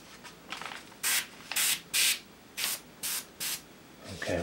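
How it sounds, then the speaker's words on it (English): An airbrush spraying Indian ink gives short hissing bursts, about seven in a row with brief gaps, fairly quiet and close, with no talk. "Okay, we're having trouble now with this airbrush because it doesn't seem to want to sit up against the nozzle."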